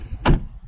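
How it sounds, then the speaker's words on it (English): A single short, solid thud as a car door shuts on a Jeep JLU, close by and fairly loud, with a faint trace of background noise around it. "Close the door."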